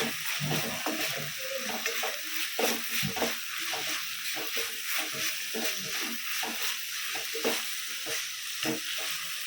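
Onions fry on a slow flame in a pan, with a steady sizzle and repeated scraping strokes as they are stirred, close and clear with no talking.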